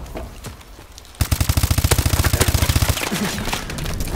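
Rapid automatic gunfire in Call of Duty: Advanced Warfare, a sustained burst of evenly spaced shots loud and close after a quieter stretch of game ambience, then the firing stops.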